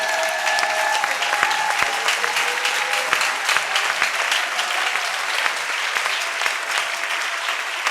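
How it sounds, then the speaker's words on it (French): A church congregation claps loudly and continuously in praise of Jesus, dense sustained applause with sharp individual claps, and a few cheering voices rise within it. "lève-toi, acclame Jésus très fort"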